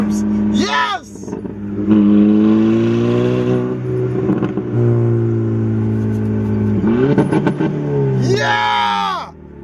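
Turbocharged car engine running at around 20 PSI of boost, its boost leaks patched with Gorilla Tape and bicycle tubes, revving hard and sustained near at hand with rising and falling pitch sweeps, with excited shouting over it.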